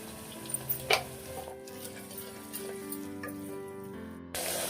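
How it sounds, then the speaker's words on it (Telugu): A spoon stirs turmeric into onions frying with ginger-garlic paste in a pan for goat head curry, giving a soft continuous sizzle with a few light scraping knocks and no talk. "ఇప్పుడు పసుపు వేసుకొని కలుపుకోవాలి"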